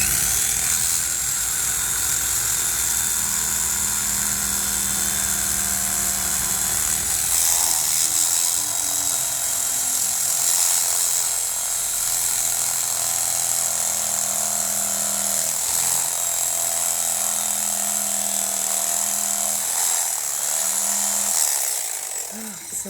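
A power tool blade cuts through foam, making a continuous high mechanical whine close by. The pitch shifts slightly as the blade works along the edges.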